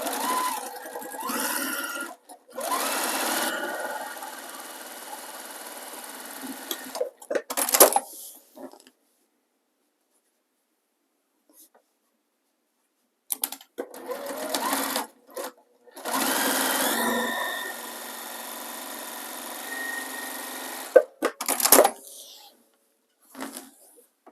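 Sewing machine stitching a fabric cover, running in two long bursts with short back-and-forth reversals to backtack at the start of the seam, separated by a quiet pause, with a little talk in between.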